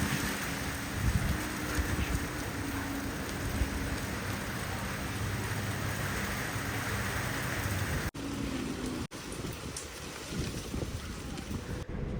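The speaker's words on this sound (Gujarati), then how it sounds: "ફરી એક વખત વરસાદ એકદમ જોરશોરથી શરૂ થઈ ગયો છે" Heavy rain pours steadily and loudly in Jamnagar, India, a dense hiss with some wind buffeting, briefly cutting out twice near the end.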